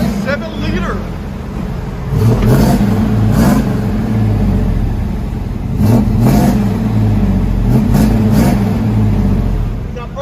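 1994 Chevy Silverado 1500 with a 5.7L V8 and a dual Borla Pro XS exhaust, revved repeatedly in loud deep bursts that rise and fall over a throaty idle, with people talking nearby.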